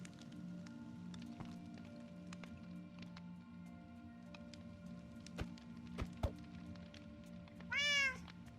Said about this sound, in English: I've just hit the cat.